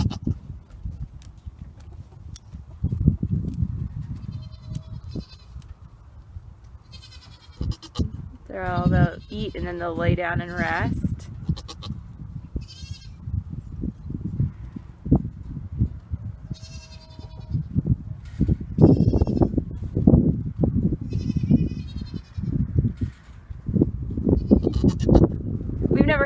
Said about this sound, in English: She's a Nigerian dwarf goat, and so is their daddy.